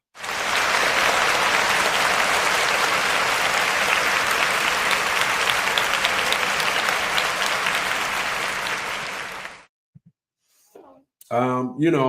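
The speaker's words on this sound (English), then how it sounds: "Round of applause" An audience applauds four newly appointed judges on a podcast, a loud, dense, sustained ovation lasting about nine seconds before it cuts off into silence, followed by a brief voice speaking.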